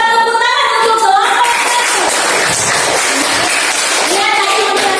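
A class of children applauds together in a classroom, a dense wash of fast clapping that holds steady for several seconds, with a voice heard briefly at the start.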